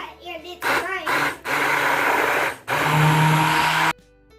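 A blender whirs loudly in two long bursts as vegetables are blended into pizza sauce for homemade pizza rolls, with brief stops between runs and a voice heard at the start.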